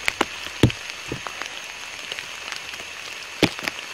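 Heavy rain pours down in a forest during a long wet hike, a steady hiss of drops hitting leaves and ground with sharper splats and taps scattered throughout, close and continuous with no voices.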